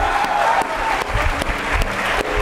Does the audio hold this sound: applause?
yes